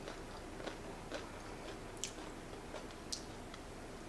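Crunchy nachos being chewed close to the mic, soft rhythmic crunches and clicks repeating about every half second, quiet and without talk.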